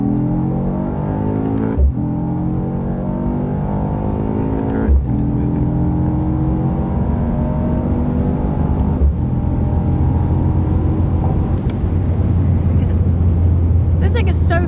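Interior sound of a car with a 4-litre bi-turbo V8 accelerating hard on an open road, loud steady engine roar climbing in pitch through several gear changes, with someone talking over it.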